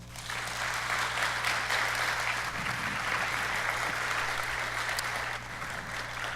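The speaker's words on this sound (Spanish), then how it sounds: "Denle un aplauso al Señor." A church congregation at a conference applauds in praise of the Lord, with a sustained, even wash of clapping heard over a low steady hum and fading slightly at the close.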